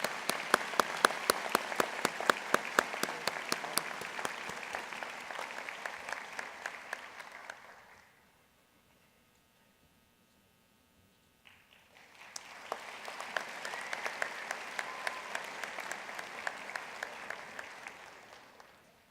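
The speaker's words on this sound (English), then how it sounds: "Another round of applause, please." Audience applause at a university commencement graduate ceremony: steady dense clapping that fades to near silence around the middle, then swells back up and continues loud to the end.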